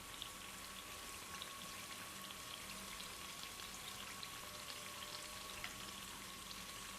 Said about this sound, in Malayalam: ഫസ്റ്റ് ബാച്ച് ഫ്രൈ ചെയ്തെടുത്തിട്ടുണ്ട്